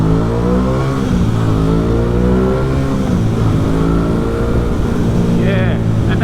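An Aprilia Tuono 660 motorcycle with a 660cc engine runs loud and close, its rough, rhythmic engine note rising and falling in revs without being taken high, with someone talking over it.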